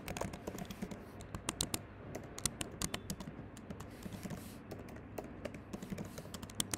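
Rapid, uneven keystrokes on a computer keyboard while entering an SQL query, a steady patter of close, crisp clicks with brief pauses, no talking.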